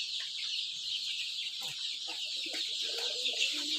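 About a hundred chicks in a poultry shed keep up a dense, high continuous peeping, with a few louder clucks from nearby birds, steady and close.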